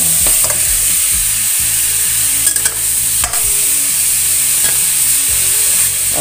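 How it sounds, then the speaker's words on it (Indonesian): Chicken pieces stir-fried in a pan for a clear corn soup, with steady loud sizzling throughout and repeated clacks and scrapes of a spatula stirring, no voices. "Ini tumis-tumis ayamnya sampai sedikit berubah warna ya"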